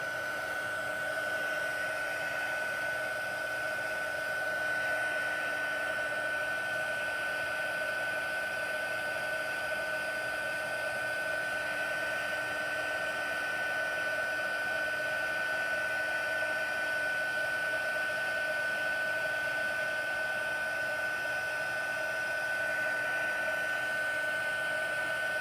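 A heat embossing tool blows steadily at close range for shaker card crafting, a constant airy whir with a faint high whine that holds unchanged throughout, with no talk over it.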